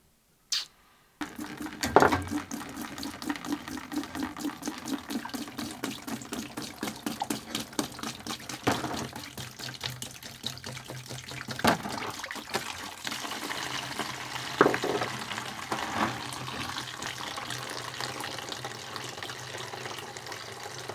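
Water drains from a tank aboard a Dutch fishing trawler, a steady trickling and splashing flow that starts abruptly and runs continuously, with occasional louder gurgles.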